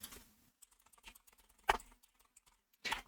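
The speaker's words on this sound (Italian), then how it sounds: "nel motore di ricerca andremo a digitare Gentiluomo Digitale" Fingers type on a computer keyboard, entering a search into a web browser's search engine: a few loud isolated keystrokes spread among faint ones, with a sharp burst midway and a dense cluster of clicks at the end.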